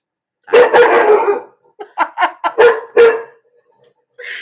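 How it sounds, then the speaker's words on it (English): A puppy named Maggie barking, a long drawn-out yowling bark followed by a quick run of several sharper yips, close and loud with silence between bursts. "You're going to hear Maggie barking again"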